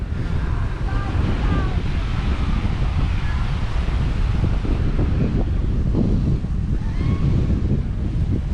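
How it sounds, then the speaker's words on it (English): Strong, steady wind buffets the microphone while waves roll and wash nearby at a beach in Cap Cana, Punta Cana, a constant roar with no voices. "it's been very, very windy and very wavy."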